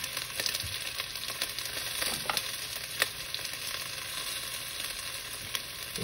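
Carrots and onions fry in a pan with a steady, close sizzle, broken by a few sharp utensil scrapes and clicks from stirring.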